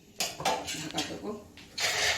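A metal lid clatters onto a cooking pot in a home kitchen as cauliflower and potato curry cooks, several sharp clanks and scrapes close by, with no talk.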